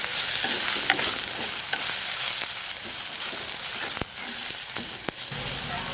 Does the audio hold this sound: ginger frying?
yes